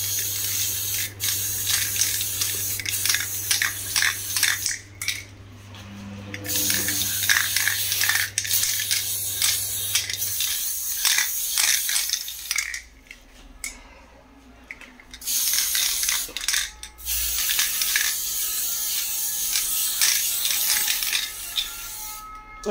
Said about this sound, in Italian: siccome io ho ancora la vernice spray, diamo un'altra spruzzata